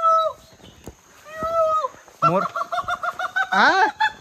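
A person imitates a peacock's call with a few drawn-out cries, then a rapid run of clucking, bird-like whoops, close and loud.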